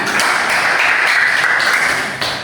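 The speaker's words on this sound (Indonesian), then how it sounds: "Terima kasih untuk kelompok 1, beri tepuk tangan." Audience applause for a student group's song performance at a teacher-training session at UIN Salatiga, a steady wash of clapping that stays loud for the whole stretch and tapers slightly at the end.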